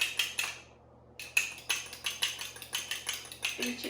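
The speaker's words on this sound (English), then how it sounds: "Just make sure your egg is well beaten." A whisk or fork beats an egg in a small pot, giving quick rhythmic clinking taps, a brief pause after the first burst, then a steady run of close, moderately quiet strokes.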